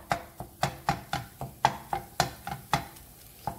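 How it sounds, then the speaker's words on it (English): Spatula chopping turkey sausage in a skillet, about a dozen sharp regular scraping taps at close range, each with a short metallic ring, no talk over them. "I usually just come in here and just chop it down."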